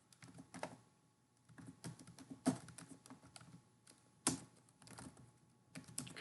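Computer keyboard typing in bursts of quick, close key clicks separated by short pauses, with a couple of heavier keystrokes standing out; no one talks.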